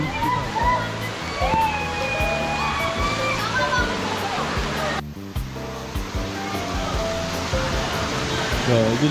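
Strong floodwater rushes through a flooded street in Quezon City, a loud, churning wash of water that carries on throughout, with people talking and shouting over it.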